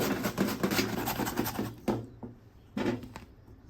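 Rapid rhythmic scraping strokes of a hand grater, steady at first, then pausing and resuming in a short burst, close up.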